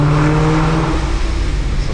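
An 1100-horsepower Mustang's engine rumbles loud and close during a late-night drive in downtown Los Angeles, a steady low drone with humming harmonic tones that eases slightly after the first second.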